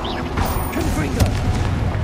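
Spell-blast explosions from Confringo casts in the Hogwarts Legacy game, a dense crackling burst with a low boom mixed under ongoing voice talk and game effects.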